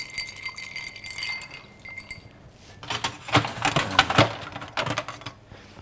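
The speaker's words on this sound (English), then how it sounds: "And the stirring begins. Now we want those ice to rub against the sugar at the bottom of the glass" Ice cubes are stirred in a glass with sugar at the bottom while mixing an Old Fashioned cocktail. Close, rapid clinks and rattles come in bursts, growing busier and louder partway through, with no talking.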